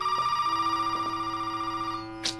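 Ringing telephone in the horror game Resident Evil 7, a steady electronic bell tone held for about two seconds before stopping, followed by a short rustling burst.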